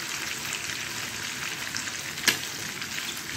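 Chicken liver and gizzards frying in a pan, a steady close sizzle with a single sharp clink partway through, no talk.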